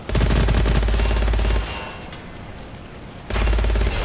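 Loud rapid bursts of automatic gunfire from enemy soldiers in the shooter Gunfire Reborn, one sustained burst, a short pause filled with rumbling echo, then another burst starting up close.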